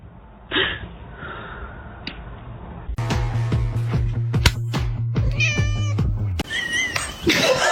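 A small kitten meows repeatedly, close and clear, with a few louder, drawn-out cries mixed in among shorter mews.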